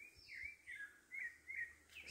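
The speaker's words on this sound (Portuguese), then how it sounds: "Sabiá laranjeira, não é?" A rufous-bellied thrush sings beside a stream, four or five clear warbled phrases in a steady rhythm, moderately distant and fairly soft over faint low water noise.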